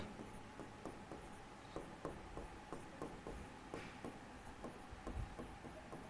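Writing on a board during a maths class gives a series of quiet, regular scratchy strokes and taps close by, with no speech over them.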